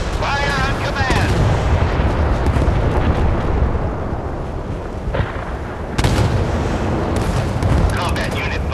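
Heavy warship guns boom in the naval combat game Force of Warships, loud repeated blasts with rumbling tails and sharp onsets around the middle, under game voice callouts.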